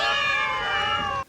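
A single drawn-out cat meow, loud and close, from a house holding many cats, with a bright harmonic tone that glides slightly before cutting off abruptly.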